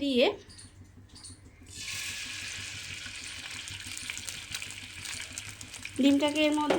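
An egg fries in hot oil in a pan, giving a steady, close crackling sizzle that lasts several seconds, with a voice heard briefly at the start and the end.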